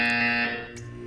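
Buzzer from the video game Portal 2, a single short electronic alarm tone with bright stacked harmonics that holds briefly and then fades out.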